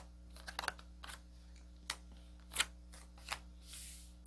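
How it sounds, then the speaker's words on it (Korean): Tarot cards are shuffled and drawn in a quiet room, giving a handful of brief, soft riffles and taps at uneven intervals over a steady low hum, with no voices. "카드를 뽑아보도록 할게요"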